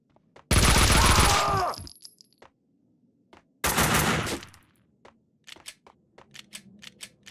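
Gunfire in the video game Max Payne 2 comes as two loud automatic bursts, the first about a second and a half long and the second shorter, followed by a scatter of sharp, quieter single shots and clicks.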